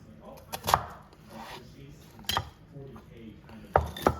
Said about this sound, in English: The onion is being cut for the tomato onion masala.